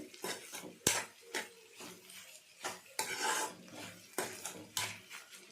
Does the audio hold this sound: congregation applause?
no